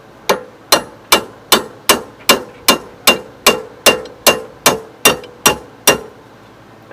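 Metal is struck with the side of an old pair of pliers used as a makeshift chisel, fourteen sharp evenly spaced hits ringing close and loud, then stopping.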